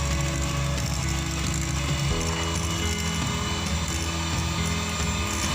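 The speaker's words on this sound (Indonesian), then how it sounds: "Selanjutnya putih telur ini akan kita kocok hingga kaku." An electric mixer whips egg whites with sugar until stiff, a loud, continuous mechanical whir and rattle that stays close and steady throughout, its pitch shifting slightly partway through, with no voices.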